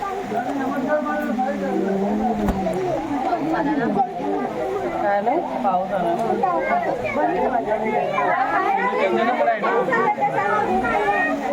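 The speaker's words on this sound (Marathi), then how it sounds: "भरपूर अशी गर्दी असते इकडे" Busy crowd at a Shiva temple site near a water tank in Amboli during monsoon rain, a dense continuous hubbub of many overlapping voices at steady loudness, with running water faintly beneath.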